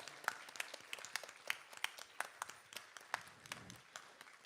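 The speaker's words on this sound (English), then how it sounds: "She needs a big round of applause." Audience applause at a live Bharatanatyam arangetram performance, heard as scattered, fairly faint individual claps with sharp separate hits rather than a dense roar.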